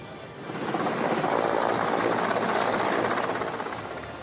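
An Indian Air Force Mi-17 helicopter drones loudly with a rapid rotor chop, swelling as it nears and then easing slightly, with no voices.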